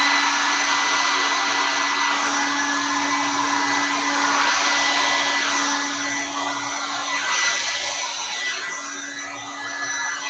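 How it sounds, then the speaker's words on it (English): A hair dryer on its high setting blows acrylic paint across a Dutch pour, giving a loud, steady whirring rush that runs continuously without talk. "turning on the hairdryer"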